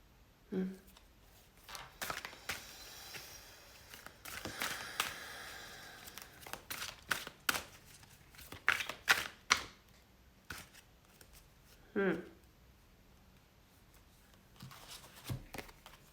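Oracle cards riffle and flutter in several quick bursts as a deck is shuffled, near and fairly quiet, with short pauses and brief soft voice sounds between.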